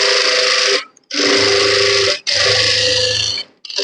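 A sewing machine runs in three steady bursts of stitching, stopping briefly between them, as a second row of stitches is laid over the first along a gathering pleat in fabric.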